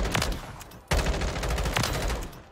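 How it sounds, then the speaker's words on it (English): A shotgun fires in the Call of Duty video game, giving a few loud, sharp blasts in quick succession within a short burst of game audio, with no speech. "It's a shotgun."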